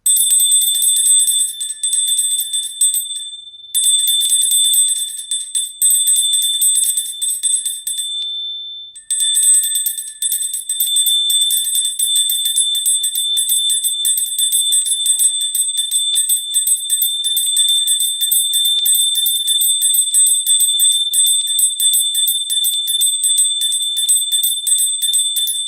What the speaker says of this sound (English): And so I bought this bell there, and I just want you to listen to it